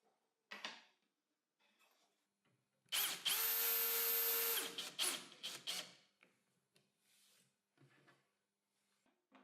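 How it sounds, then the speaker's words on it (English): A power drill whirs steadily for a couple of seconds, drilling screw holes in a plywood drawer bottom, framed by scattered clicks and knocks of handling wood in a quiet room. "First, I drill the position of the screws in one of the bottoms"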